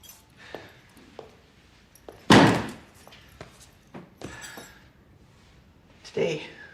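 A door is opened with a loud slam-like thunk after a few light knocks and taps, followed by scattered thuds and movement, with a person's voice audible nearby in an indoor drama scene.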